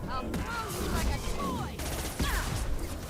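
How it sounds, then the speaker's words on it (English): Rocket blasts and rapid weapon fire from the Mass Effect 2 video game burst in dense, overlapping volleys throughout, loud and close, with a few sharper impacts near the middle and end. "Who's shooting rockets?"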